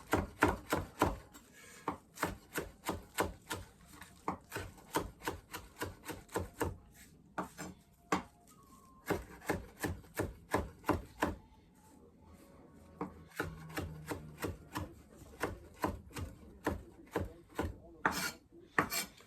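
Fresh herbs for Lebanese tabbouleh are chopped finely by hand with a knife on a wooden board, a close series of rapid, rhythmic knife strikes in bursts with short pauses between, alone without talk.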